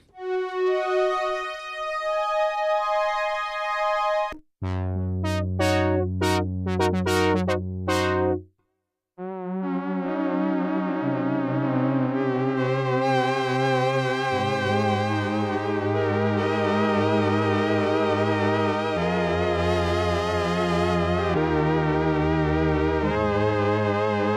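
A rich analog synth tone from a Sequential Trigon-6 preset 000 holds, breaks into a few sharp stabbed notes, then swells into layered sustained chords with slow movement, loud and alone.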